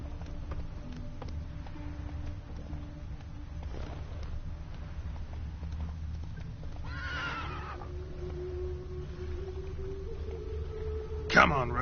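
The horse Roach gallops and neighs in The Witcher 3, with quiet clip-clop hooves under game noise, a short neigh near the middle and a sharper whinny just before the end.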